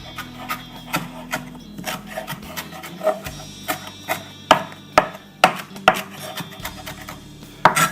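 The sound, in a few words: wiping a cutting board with cilantro stuck to it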